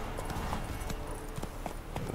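Horse hooves clip-clop steadily in the Witcher 3 video game, a continuous stream of hoof beats over a dense, noisy background without speech.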